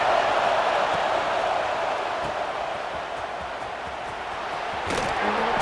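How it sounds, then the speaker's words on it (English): A loud American football stadium crowd roars continuously, a dense wall of cheering that swells again near the end. "This crowd, full throat, splitting the eardrums and letting them know it's going to be a long day."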